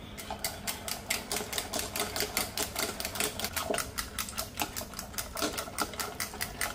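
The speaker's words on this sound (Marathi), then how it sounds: "आता ह्या डाळीला आपण थोडंसं रवीने घोटून घेऊया" Cooked dal for dal makhani is churned by hand with a wooden ravi, giving a fast, regular series of soft clacking and swishing strokes close by, quiet overall.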